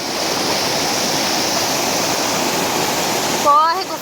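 Clear water of the Córrego Fortaleza stream rushing steadily over its bed, a loud unbroken roar that fills the whole stretch, with a brief bird call near the end.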